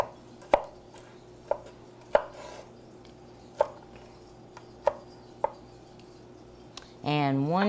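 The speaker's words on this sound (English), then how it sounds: "we're going to get all this chopped up" Vegetables are chopped on a cutting board, with about eight sharp, separate knife thuds at an irregular slow pace over a quiet kitchen hum, ending in a brief ringing metallic clatter.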